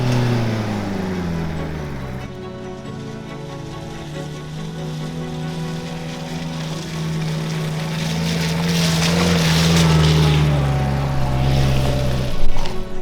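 A small homemade camper van in four-wheel drive labors uphill toward a campsite. The engine drones steadily and builds in loudness as it climbs, with gravelly crunching and rattling under it and no talk.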